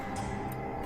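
A clock ticks softly in an empty, quiet office, a few faint ticks spaced evenly over a low steady hum.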